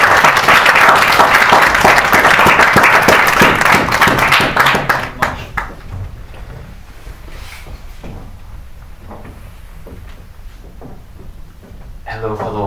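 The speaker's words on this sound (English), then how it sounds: "maybe a round of applause" An audience at a university talk gives a round of applause, loud sustained clapping for about five seconds that tapers off into shuffling, room noise and faint murmurs.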